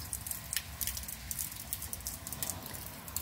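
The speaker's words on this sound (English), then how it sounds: "Drip, drip, drip." Rain dripping outside on a cloudy day near a wet bird feeder, scattered soft drips and ticks over a low rumbling background, quiet and irregular.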